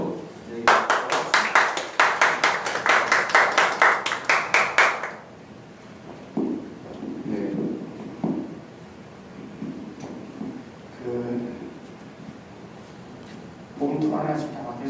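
An audience at a Catholic culture centre ecology lecture claps for a priest who chairs a solar power cooperative: loud, fast, evenly rhythmic clapping for about four seconds, then quiet room tone with a speaking voice.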